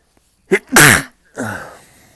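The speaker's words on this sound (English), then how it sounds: "so I am going to sneeze" A single loud sneeze close to the mic: a quick sharp intake, an explosive burst, then a trailing breathy exhale.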